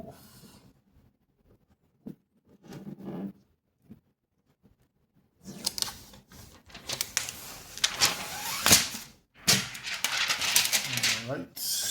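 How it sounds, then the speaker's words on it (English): Tape being peeled and pulled off a new Mova P10 Pro Ultra robot vacuum and mop station, a few short faint rips early on, then a longer burst of loud, crinkly tearing and rustling close by. "Get the tape off."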